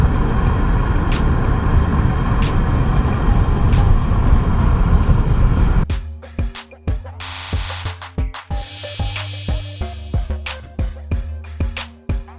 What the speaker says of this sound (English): These few cars you're seeing, this is nothing for Wisconsin Avenue on a Saturday afternoon